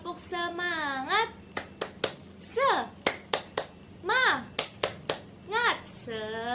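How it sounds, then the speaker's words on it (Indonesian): A classroom of primary school children performs a rhythmic spirit clap, short sharp clap bursts in a patterned sequence alternating with children's chanting voices, close and lively. "Kita coba tepuk semangat."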